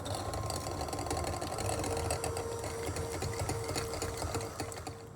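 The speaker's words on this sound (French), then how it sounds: "J'ai mis les œufs, je mets le sucre, je mélange." Eggs and sugar are beaten together for almond cream, a steady mechanical whirring buzz that runs close and unbroken throughout, fading a little at the end.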